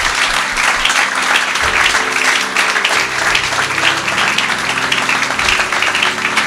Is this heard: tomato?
no